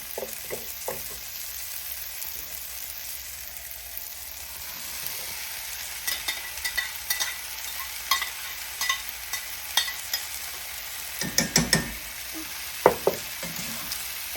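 Ground meat sizzling steadily in a pan with onions and green peppers, a continuous fry hiss with occasional sharper crackles and stirring scrapes growing more frequent toward the end.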